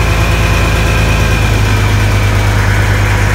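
An International Harvester 986 tractor engine runs at a steady idle after a hydraulic filter change, a loud, constant low rumble with a droning hum, close by and uninterrupted.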